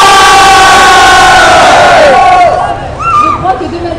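A packed hall at Japan Expo erupts in loud, sustained crowd cheering and shouting, with high wailing cries rising above the roar before the noise thins and scattered yells continue.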